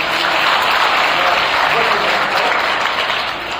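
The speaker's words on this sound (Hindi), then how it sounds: "एक बार जोरदार तालियां" Loud audience applause following a Hindi-language speech, a thick wash of clapping from a crowd that stays strong and tapers slightly at the end.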